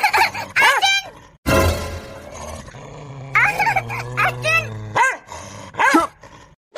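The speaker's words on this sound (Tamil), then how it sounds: "காம்பவுண்டுக்குள்ள நாய் எப்படி வந்தது?" A dog barks and growls inside a house compound, with sharp loud barks and a rough growling stretch breaking through excited voices talking over it.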